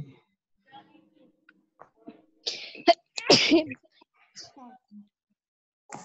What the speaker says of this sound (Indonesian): itu bersin dropletnya, awas kena kita ya